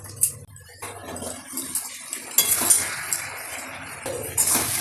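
A metal pot lid clinks and scrapes as it is lifted off cooking chicken, with sharp rattles over a low kitchen background and no speech.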